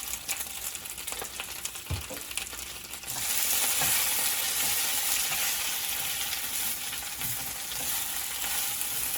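Vegetable leaves frying in a pan with taco seasoning, a steady close hiss that jumps to a louder, even sizzle a few seconds in, with occasional stirring clinks.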